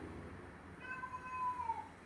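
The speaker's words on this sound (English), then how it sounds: "That's my cat." A pet cat meows once or twice at moderate distance, a short, drawn-out mewing call over a quiet indoor background with no talking.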